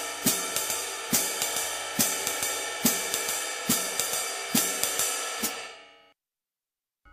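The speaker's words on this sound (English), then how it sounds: "the traditional swing pattern is usually thought of as this" A drum kit plays a traditional swing pattern: steady ride cymbal strokes with regular accented hits repeating in an even rhythm, loud and close, before ringing out and stopping near the end.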